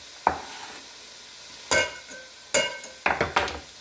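Onions dropped into a pot for a cheesy Italian sausage pasta soup, giving a few short bursts of sizzle and clatter spaced a second or so apart against a quiet background.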